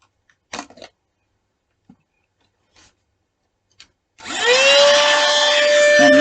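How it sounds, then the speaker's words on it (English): Small electric blower with attachments, for clearing gunk from hair clippers, switches on after a few faint clicks and handling taps, then runs with a loud, steady whirring whine held to the end. "And this is a blower."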